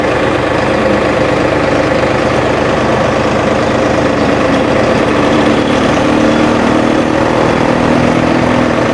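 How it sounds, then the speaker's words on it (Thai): A new car's engine runs steadily at close range during a ceremony of driving the car into a house in Thailand. It makes a loud, continuous idling drone with no clear revving or breaks. "เดี๋ยวลูกค้าจะขับเข้าบ้านเลยค่ะ"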